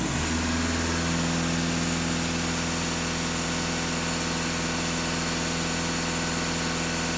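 A Euro 6 diesel car engine is held at about 2500 rpm, giving a loud, steady, even hum with a constant tone throughout and no talk over it.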